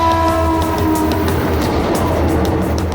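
A train rushes past a rail crossing in a Philippine neighborhood, with a loud, steady rumble of wheels and cars and a sustained tonal horn or brake whine riding over it throughout.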